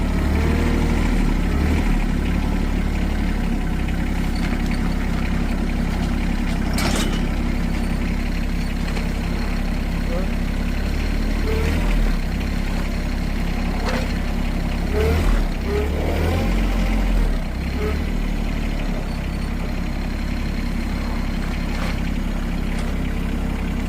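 A farm tractor's engine idles steadily nearby, a dense, continuous rumble with a few faint clanks and knocks over the top and no talking.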